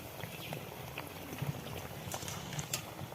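Steady crackling and bubbling of raw-banana fritters deep-frying in hot oil, with scattered pops and sizzles throughout, no voices.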